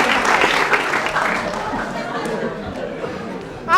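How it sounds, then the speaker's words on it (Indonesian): Audience clapping for two participants at a polytechnic school event in Palembang, a loud burst of applause mixed with crowd chatter and talk, dying down toward the end. "Tepuk tangan untuk mereka berdua."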